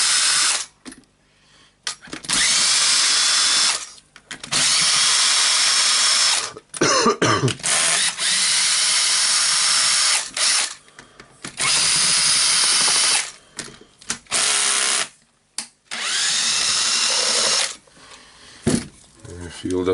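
A cordless power drill with an oversized bit bores in repeated loud bursts, motor whining then cutting out between runs, close to the listener with brief gaps of near silence.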